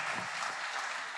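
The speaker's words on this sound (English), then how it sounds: "Round of applause for Charlie Sheen." A brief, fairly faint burst of dense crowd applause for Charlie Sheen at a TV industry talk, steady clapping from many hands.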